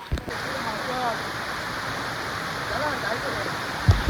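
A waterfall at a hidden tribal hamlet spot pours down a hillside in a steady, moderate rushing wash, with faint voices and a few thumps near the end.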